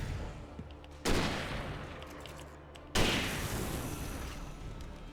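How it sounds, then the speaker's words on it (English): Two loud, sharp hunting rifle shots in the game Alan Wake, each one followed by a long booming decay, spaced about two seconds apart, with no voices. "Hunting rifle, very strong."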